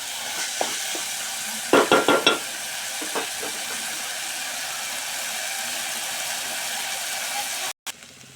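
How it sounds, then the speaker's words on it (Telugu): Moong dal sizzles in a hot oil tempering as a steady frying hiss, with a few sharp scraping stirs near the start and occasional soft clinks. "పెసరపప్పుని ఇలా పోపులో మంచిగా వేయించుకోవాలి"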